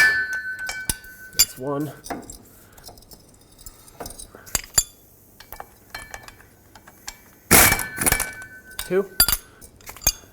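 Metal clicks and ratcheting from a wrench snugging driveshaft bolts on a 2001-2007 Toyota Highlander, in short bursts with pauses between them, with someone speaking briefly and counting between the bursts.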